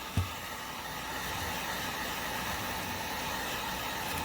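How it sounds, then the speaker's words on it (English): A heat gun on its low setting blows a steady broadband whoosh after a brief click at switch-on, holding constant and close for several seconds with no voices. "I like to have my heat gun on low."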